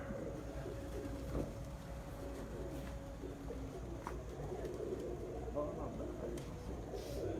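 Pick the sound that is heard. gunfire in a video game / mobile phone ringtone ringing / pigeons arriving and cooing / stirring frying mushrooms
pigeons arriving and cooing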